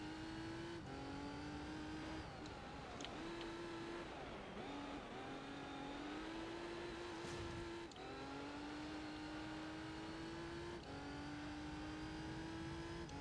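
Race car engine in the video game Gran Turismo 3, a continuous loud drone that rises and dips through gear changes and revs as the car laps a track, no talking.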